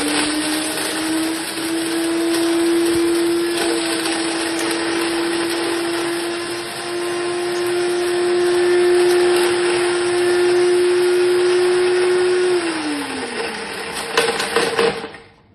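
A Zada kitchen blender crushing a glass soda bottle runs at a loud, steady high-speed roar with gritty grinding and rattling throughout, then the motor winds down and clatters to a stop near the end.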